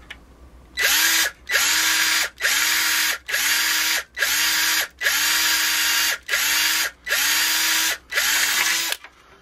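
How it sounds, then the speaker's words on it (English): A power drill bores a hole in a plastic model train stairwell piece in nine short bursts of about a second each, loud and close, separated by brief pauses. "And lastly, I'll drill this one here."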